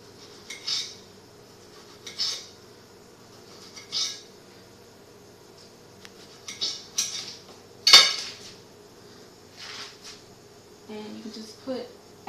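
A knife cuts through tomatoes on a board for a beet salad, a series of soft, separate slicing strokes plus clicks and knocks against the surface, all fairly quiet.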